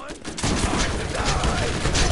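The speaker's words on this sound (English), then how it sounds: "Oh, what am I getting shot from?" Video game gunfire in Borderlands: after a brief quieter start, a continuous loud fusillade of rapid shots rattles on without letup.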